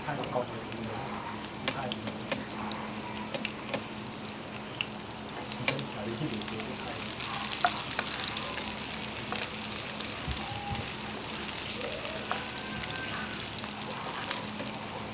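Garlic and onion sautéing in a pan for a Filipino vegetarian peanut stew, a soft continuous sizzle with scattered clicks and scrapes of stirring, while a voice speaks intermittently over it.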